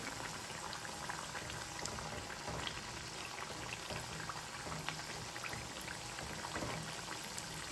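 Ripe banana fritters deep frying in hot oil over a medium flame, a steady, close, bubbling sizzle with fine crackles that continues evenly throughout, no voices.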